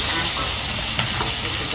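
Fish frying in a pan, a steady close dense sizzle and crackle that runs without pause, with a faint stir or pop partway through.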